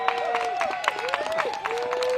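Spectators at the disc golf Tour Championship MPO finals give a brief, steady round of cheering and applause, a moderate crowd roar that carries throughout while a distinct whistle-like tone slides in and out above it.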